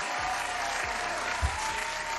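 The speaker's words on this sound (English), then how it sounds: "Give a big applause for yourself." A canned applause sound effect plays during a live forex trading stream, steady crowd clapping with a few low thumps underneath.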